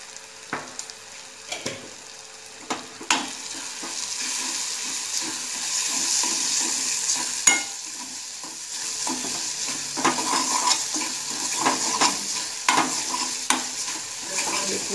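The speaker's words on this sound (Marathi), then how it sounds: "पूर्ण खमंग परतून घ्यायचं." Semolina being sautéed for masala upma, a spoon scraping and clacking against the pan at irregular intervals over a low, steady sizzle, with no talking.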